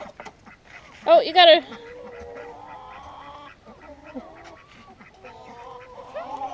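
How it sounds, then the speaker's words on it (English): Domestic hens give a loud, brief squawk and cluck near the start during a chase to catch one, followed by softer fowl calls and chatter while people talk throughout. "Those would probably be Little Red Hens."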